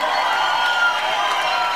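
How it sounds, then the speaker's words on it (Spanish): A dense, loud crowd roar of cheering and clapping at a live show in a disco, sustained and steady throughout. "El aplauso para el Jorcito Belondi."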